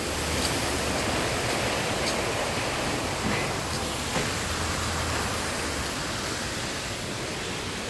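Sea waves along the shore next to a downtown waterfront: a steady, loud broadband wash of surf that stays continuous throughout, with no pauses and no talking.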